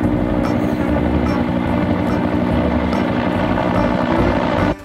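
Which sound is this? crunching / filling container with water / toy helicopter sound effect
toy helicopter sound effect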